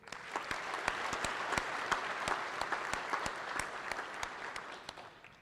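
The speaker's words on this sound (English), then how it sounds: "I'd like to ask you all to give them a round of applause." An audience applauds at a military garrison change of command ceremony at Fort Knox, a steady spread of many hands clapping in a large space, moderately distant and fairly quiet.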